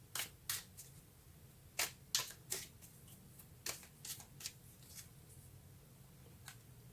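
Tarot cards being shuffled by hand, a series of short crisp riffles and snaps in irregular clusters, close and fairly quiet against a soft background hum, with no talking.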